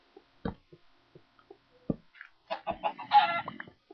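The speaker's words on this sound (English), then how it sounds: "there's a chicken" Chicken clucking in a blocky sandbox video game, a few soft short clucks followed by a louder, busier burst of clucking toward the end, heard alone without talk.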